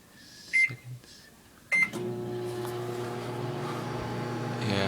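A microwave oven runs with a steady low hum and rattle while heating a banana, preceded by a few short button beeps before the motor starts, alone and close.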